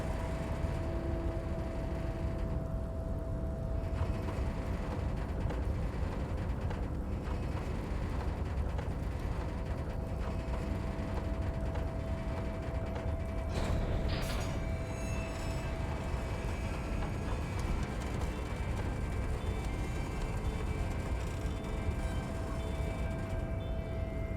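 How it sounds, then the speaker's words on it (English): A harbor crane in the game Disco Elysium grinds and creaks as it shifts overhead hauling a massive metal container, a long low mechanical rumble with ratcheting clanks and a sharper metallic clunk midway. "With a loud grind, the crane shifts overhead, moving a massive metal container through the air."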